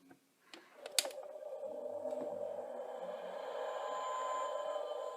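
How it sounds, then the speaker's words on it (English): A toy TARDIS from a 12th Doctor spin-and-fly merchandise set plays the 11th Doctor's TARDIS materialisation noise, a steady, moderately loud, grinding electronic whir with a sharp onset that holds for several seconds, with no talk over it. "It's actually the 11th Doctor's TARDIS noise, as I will now demonstrate with my hands."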